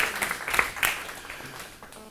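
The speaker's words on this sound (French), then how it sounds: "Anissa, on fait un grand applaudissement." An audience at a dental implantology conference gives a brief round of applause, with scattered, fairly faint claps that quickly thin out.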